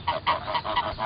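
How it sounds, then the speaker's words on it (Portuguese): Geese honk in an orchard: a quick run of about five loud, close honks in a steady rhythm, with no talking. "Os gansos podem fazer um bom trabalho aqui no pomar."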